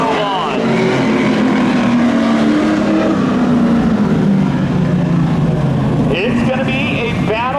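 Drag race cars roar down the strip at Seekonk Speedway spectator drags, a loud, sustained engine drone with rising and falling pitch sweeps while an announcer talks over it.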